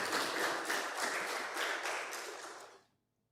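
An audience at a Ugandan medical association swearing-in and handover ceremony gives a round of applause, a faint, dense wash of clapping from a distance that fades out near the end.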